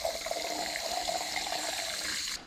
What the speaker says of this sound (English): Let me get the hose.